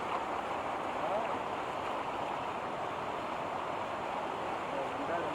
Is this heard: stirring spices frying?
no